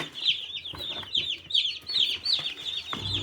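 Newly arrived white broiler chicks cheep in a dense, continuous chorus of high, rapid peeps, with occasional soft rustling and low bumps underneath.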